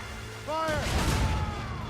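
Ship cannons firing in the naval combat of Assassin's Creed Rogue: a heavy booming blast lands after a short voiced cry and then rumbles out across the rest of the moment.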